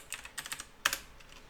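A computer keyboard typed quickly while writing code, a short run of crisp close clicks with one louder keystroke near the end, no talking.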